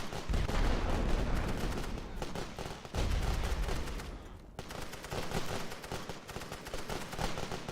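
Artillery barrage in the WW1 strategy game The Great War: Western Front, a dense, continuous rumble of loud booming blasts and crackling fire that rolls on without a break, with heavier thumps near the start and around the three-second mark.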